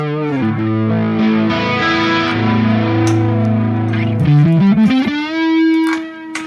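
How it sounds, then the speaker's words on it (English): Crunchy overdriven electric guitar played through channel 1 of a Sonicake Matribox 2 Pro multi-effects unit, sustained chords ringing with echo, then a few brighter single-note phrases ending on a held note, loud and close with no talking. "Channel 1 is also delivering crunch tones."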